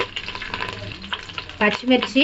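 Onions frying in hot oil with dried red chillies and green chillies added, a steady close sizzle broken by stirring scrapes and louder spatters toward the end.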